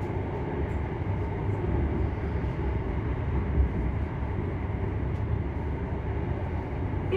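Inside a British passenger train pulling into a station, a steady low rumble of wheels and carriage fills the cabin at constant loudness, with no voices.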